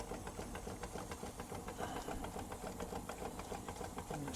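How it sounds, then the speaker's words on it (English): A Stuart Turner S50 model steam engine runs on a small hybrid steam plant, giving a steady, quick mechanical chuffing and ticking, fairly faint and continuous with no voices. "Stuart Turner's lovely engine, lasts for years."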